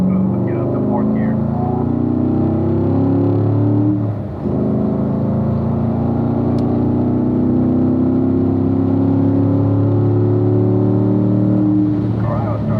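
A race car engine drones loud and steady on a track at a racing school final run, accelerating and shifting up to fourth gear, with a brief dip in the note as the gear changes, under an instructor's continuous talk.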